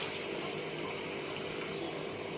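Water from a mixer jar runs into a pan of chicken curry in a continuous, even stream, a quiet steady gushing with no talking.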